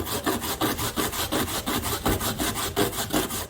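Coconut grated by hand against a grater, a fast, steady run of rasping scrapes in a regular back-and-forth rhythm, close and loud with no talking.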